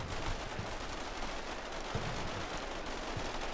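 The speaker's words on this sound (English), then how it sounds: "instead we're just shooting at them" Continuous rattling gunfire from a tactical war video game, with soldiers firing on surrendering troops near BMP armored vehicles; dense, steady machine-gun-like bursts run throughout with a few sharper reports standing out.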